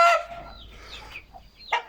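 An old Rhode Island Red hen clucks and squawks nearby in a few short, sharp calls separated by quieter pauses.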